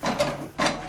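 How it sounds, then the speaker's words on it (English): An HP Deskjet 2700e printer printing a wireless information page, two short mechanical whirring passes from the print carriage, close and moderately loud. "what it's going to do now is going to print the wireless"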